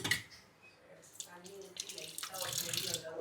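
Water splashes and runs steadily into a cooking pot, starting faint and growing louder and fuller toward the end, with no talking.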